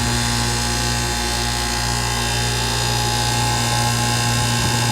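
A York air conditioner unit runs at a loud, steady drone with a constant hum and fan noise that holds unchanged throughout.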